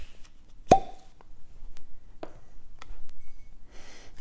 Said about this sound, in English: Quite excited to uncork a bottle kind of live